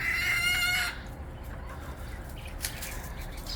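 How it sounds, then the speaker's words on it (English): Feral hens fighting over food scraps: a loud burst of excited clucking and squawking opens the clip, then the outdoor scene falls to quieter background noise. "Hen fight."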